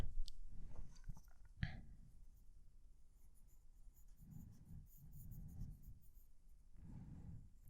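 A pencil scratches a signature onto a drawing, with close, quiet, uneven scribbling strokes and short pauses between them in a hushed setting.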